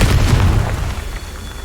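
A Confringo fire spell from Hogwarts Legacy goes off as a single loud, close explosion, a deep booming burst that rolls and fades over a second or so.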